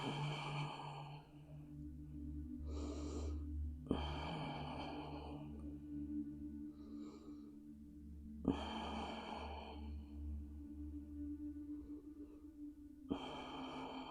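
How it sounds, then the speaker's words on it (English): Slow, deep, deliberate breaths during a yoga practice, each long inhale and exhale rising and fading in turn over a quiet background, close and soft with no talking. "intentional breaths, left side."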